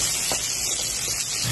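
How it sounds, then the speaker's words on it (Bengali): Okra frying in hot mustard oil with turmeric and salt makes a dense, loud sizzle, a continuous hiss close up with no voice over it. "হলুদ আর অল্প একটু নুন দিয়ে ভিন্ডিগুলোকে একটু ভেজে নেব"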